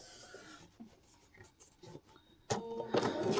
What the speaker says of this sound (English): Now we're going to take it and sew it.